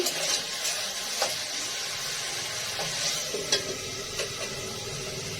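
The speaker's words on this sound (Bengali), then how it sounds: "সয়াবিনের আলুগুলো ভাজছি" Potatoes frying in a pan, a continuous close hiss and sizzle with a few soft stirring scrapes and taps, moderately loud, no voices.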